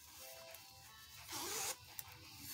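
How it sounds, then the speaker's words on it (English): A sturdy zipper on a deep, lined bag decorated with roses and skulls is pulled in one quick, close rasp lasting about half a second, standing out clearly against a quiet room. "So, nice zipper."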